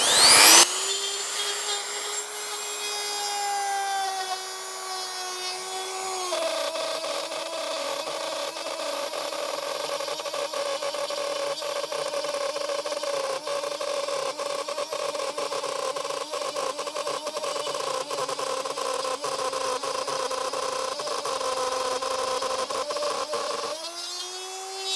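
A Parkside combination rotary cutter held in its chuck spins at 22,000 rpm, a high steady whine that dips under load as it cuts, running for about twenty-five seconds before spinning down.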